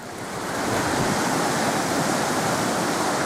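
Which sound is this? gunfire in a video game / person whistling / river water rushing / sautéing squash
river water rushing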